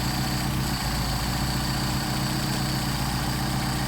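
A Mercedes 190SL engine runs on Solex 44PHH carburetors at a steady, close idle, with an even, continuous rumble and no voices.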